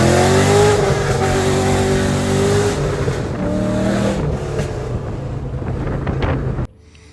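A 2005 Cadillac CTS-V with an LS6 V8 and a TR6060 manual swap idles close by with a loud, steady, deep rumble and slight changes in pitch, then cuts off abruptly near the end.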